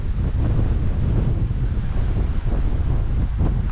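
Strong wind buffets the microphone by the sea at the little harbour on Lindisfarne, a loud, constant rumbling roar with surf washing underneath, no voices.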